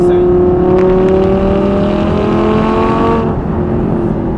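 Audi R8 LMX engine accelerates hard while driving, a loud, close, rising engine note that climbs steadily for about three seconds, then drops as the throttle eases.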